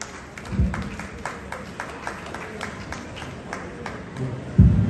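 Audience applause at an award ceremony honouring a light music singer, a moderate crowd clapping in a regular patter, fairly distant, with a louder thump at the end.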